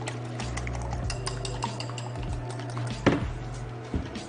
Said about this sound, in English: I have a whisk. I've never used this.